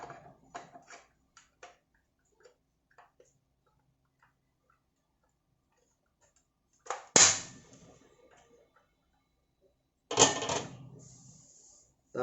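Metal clicks and scrapes as an adjustment bracket is fitted onto a Litebeam 5ac gen2 antenna: scattered small taps early, then two sharp, louder clanks with brief ringing tails after a quiet stretch.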